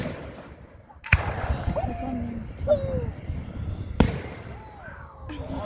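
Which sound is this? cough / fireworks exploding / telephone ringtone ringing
fireworks exploding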